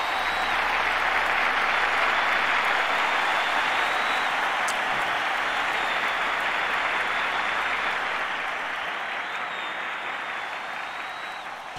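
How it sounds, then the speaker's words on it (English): Sustained applause from a large crowd at a graduation ceremony in Second Life, a dense steady clatter of clapping that slowly fades toward the end. "Can I get a little applause for our teachers?"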